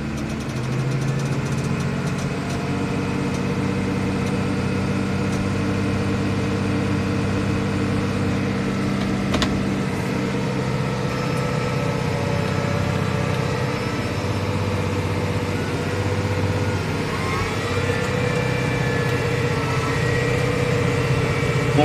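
A cold New Holland T6.175 tractor's diesel engine held at about 2000 rpm to warm up, a steady, loud close-up drone with a constant low hum and only slight shifts in pitch.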